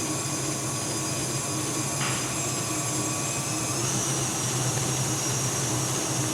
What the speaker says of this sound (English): we are using the paddle attachment on our KitchenAid